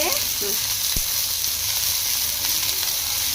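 Curry leaves sizzling and frying in hot oil in a home kitchen pan, a steady, close hiss with a faint stir or tap near the start, no talk.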